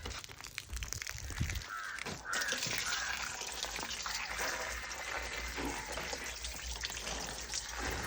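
Water gushes steadily from a pipe in a continuous splashing stream, loud and close, after a few brief knocks at the start.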